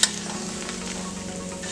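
Vegetables sautéing in a hot pan for huevos rancheros give off a steady, close sizzle and crackle that stays at an even level throughout.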